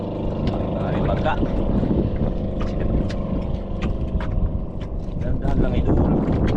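A boat moving on open water near fishermen, with a continuous engine drone and splashing close by, while people talk and call out over it.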